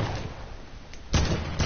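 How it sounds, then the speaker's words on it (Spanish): Gunshots in a video game during a duo match, heard as two sharp, loud bursts near the end over a steady background of game noise. "Disparo."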